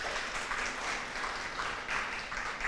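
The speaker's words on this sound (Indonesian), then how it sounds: "Luar biasa, tepuk tangan." A church congregation applauds during a Sunday service, a steady wash of clapping that fills the room evenly for a few seconds, moderately loud and without voices.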